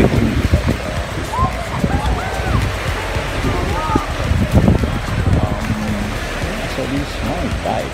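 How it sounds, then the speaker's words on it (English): Strong wind buffeting outdoors on a bike ride, a constant rushing roar with gusts, while people talk nearby. "Very nice weather. A little bit windy"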